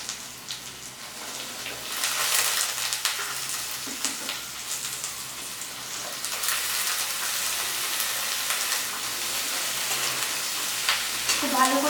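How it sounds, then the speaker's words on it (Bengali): Potatoes and pointed gourd frying with softened onion in a pan for a fish chochchori, a steady broadband sizzle with occasional stirring scrapes running throughout, fairly close. "খুব ভালো করে ভেজে নেব"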